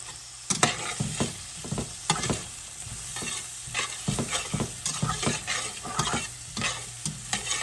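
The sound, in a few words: onions with black pepper sizzling while caramelizing in a pan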